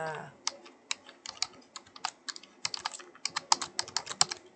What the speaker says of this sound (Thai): พิมพ์เสร็จแล้วก็กดออกได้ปกติเลยนะคะ